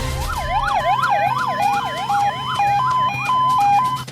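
Wailing ambulance siren from a free ambulance service in Pakpattan, sweeping up and down in repeated rapid cycles, loud and close, with vehicle engine rumble underneath and no talking.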